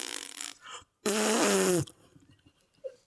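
A fart rings out for just under a second, loud and sputtering with a wavering pitch, set between brief bursts of noise and quiet moments.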